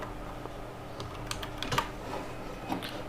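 Someone types a search on a computer keyboard: a short, irregular burst of close keystrokes with a few louder taps.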